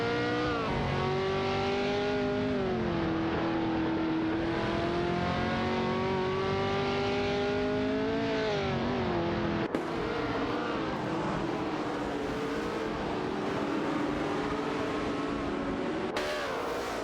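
Engines of race cars, including a McLaren 10A and an Eagle M5, in an AI racing video game, whining loudly and steadily with pitch sweeping up and down as they overtake, one car passing close.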